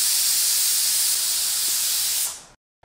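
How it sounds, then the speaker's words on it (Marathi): A pressure cooker cooking rice vents steam in a loud, sustained hissing whistle that holds steady for over two seconds, then cuts off abruptly into silence. "कुकरचं झाकण लावायचं आहे आणि भाताला 3 शिट्ट्या द्यायच्या आहेत"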